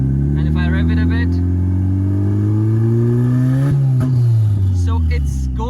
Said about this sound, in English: and if I rev it a bit